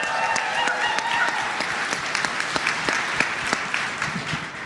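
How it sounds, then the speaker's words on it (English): A large audience applauds at the Liberal party convention, dense steady clapping with a few sharper individual claps standing out, holding at an even level throughout. "Let's give another big round of applause"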